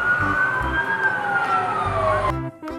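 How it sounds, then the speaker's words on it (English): A fire truck siren wails in a loud, sweeping tone that rises and falls, heard alone with faint low thumps beneath it before cutting off abruptly near the end. "Fire truck."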